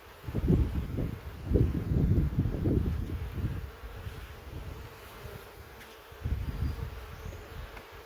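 Honey bees buzz steadily around an open hive during a spring split, a low droning hum that swells in bursts and fades back, close by with no talking.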